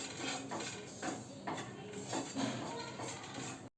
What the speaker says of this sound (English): Keep on stirring it so that it doesn't get burnt